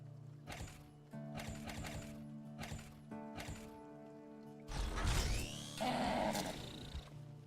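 Horse in the video game Skyclimbers, a series of short rhythmic game sounds followed by a louder neigh-like whinny with snorting, under faint background tones.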